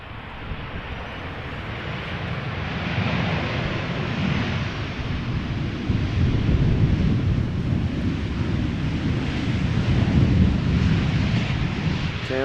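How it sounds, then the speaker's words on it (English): KLM airliner landing at Amsterdam Schiphol Airport, a low rumbling engine roar building gradually and growing louder toward the end, with wind buffeting the microphone. "KLM doing one of their typical high speed, keep up the speed, vacate late, sooner to the gate type of landings"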